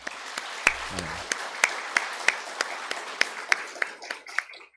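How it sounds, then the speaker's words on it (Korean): A church congregation at a Christmas service claps in slow unison, about a dozen sharp, evenly spaced beats over a faint murmur, with a brief low voice early on. "박수 한번 치도록 하겠습니다."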